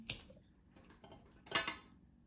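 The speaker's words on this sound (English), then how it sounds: "Oh, I'm gonna cut that stem off on this one." Shears snipping through a spider plant stem, a few sharp close clicks and snips spaced apart with quiet pauses between them.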